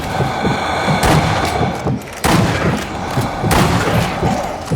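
Sniper rifle shots ring out in the zombie shooter Zombie Army Trilogy, three sharp, loud cracks spaced about a second apart, each trailing into a booming echo over a busy game soundscape.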